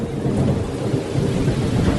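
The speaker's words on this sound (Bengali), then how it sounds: "ঝড় এলো, সঙ্গে বর্ষণ।" Thunderstorm with heavy rain in a Bengali horror audio drama: a steady, dense wash of rainfall with deep rumbling thunder rolling underneath, continuous and fairly loud throughout, with no voices.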